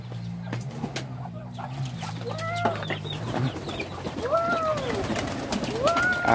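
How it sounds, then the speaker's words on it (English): Chickens clucking and cooing among other fowl on a country property, several rising calls over a few seconds at mid distance against a noisy outdoor background. "Pretty chicken though."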